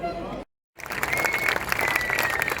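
Enthusiastic crowd applause at a French XCE mountain bike championship podium in Ploeuc-l'Hermitage, swelling after a brief silence into sustained clapping with a few whistles, following a short stretch of amplified talk.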